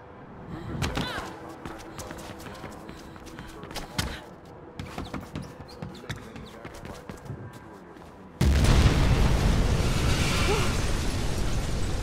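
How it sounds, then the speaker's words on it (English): A big explosion in the video game Mirror's Edge Catalyst erupts suddenly and loudly partway through, becoming a sustained roaring blast after earlier scattered pops and thuds. "big explosion over here!"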